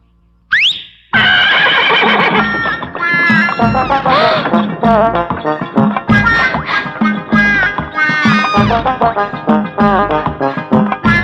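A horse in a Bollywood action film neighs in long, loud, shrill whinnies, with busy layered sound and rhythmic thuds continuing behind it for several seconds.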